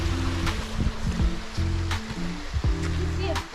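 Steady rushing water from a waterfall along a wooded hiking trail in Uvas Canyon County Park, California, forms a constant broadband roar, with brief knocks and footsteps on top.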